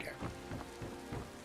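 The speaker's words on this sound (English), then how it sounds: "I don't want you guys to have to sit and listen to the rain sound all the time." Steady rain from the video game Skyrim, a constant hiss of falling drops with soft periodic thuds mixed in, moderately quiet throughout.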